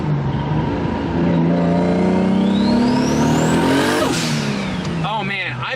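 Toyota Supra engine revving, rising steadily in pitch to a sharp peak and then dropping back, loud and close, with people talking over it and a brief chirping sound at the end.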